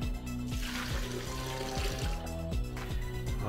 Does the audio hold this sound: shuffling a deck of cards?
no